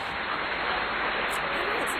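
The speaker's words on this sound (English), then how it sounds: "You can hear also in the background I've got some potatoes cooking for later." Potatoes cooking in a pot on the stove give off a soft, even bubbling hiss that stays steady and fairly quiet in the background.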